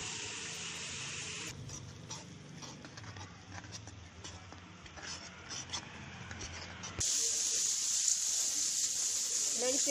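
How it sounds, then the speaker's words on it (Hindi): Onion-garlic paste frying in a pan for a Punjabi stuffed karela dish, a steady low sizzle with light scraping and stirring, then a louder, brighter hiss near the end. "प्याज लसन अपना देखो भुज चुका मैंने 5-6 मिनट हो गए भुनी जाते"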